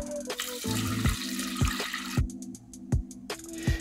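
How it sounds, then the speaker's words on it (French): Water poured into a rice cooker pot, splashing and gurgling in short bursts with a few knocks of the container, close and fairly quiet. "Je vais maintenant rajouter la quantité d'eau nécessaire pour le cuire."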